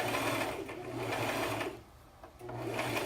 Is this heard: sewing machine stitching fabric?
yes